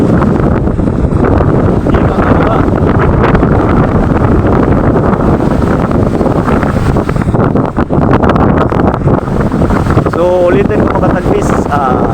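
Strong wind and heavy sea surge on a boat riding waves of roughly nine to ten feet, a continuous loud roar with wind buffeting the microphone throughout, and faint voices under it.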